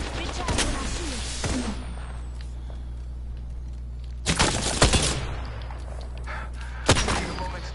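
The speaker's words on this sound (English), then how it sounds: "I am taking fire, friends." Gunfire in the Apex video game: several sharp bursts of rapid shots, the loudest near the middle and again near the end, over a steady low hum and faint footstep-like movement.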